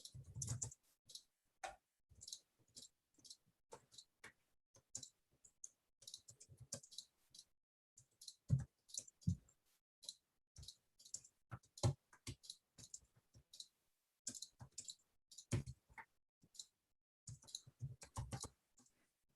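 Quiet, irregular keyboard typing at a desk, bursts of light key clicks with short pauses between them, close and soft, with no one talking.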